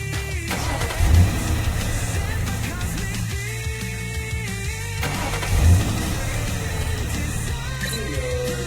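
A car's engine in the Roblox video game revs steadily and loudly throughout, with two brief surging bursts of acceleration amid the continuous game sound.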